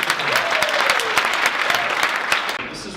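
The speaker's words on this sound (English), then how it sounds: "give them a round of applause" A startup conversation audience gives a steady round of applause, with sharp individual claps standing out over the dense clapping before it fades slightly near the end.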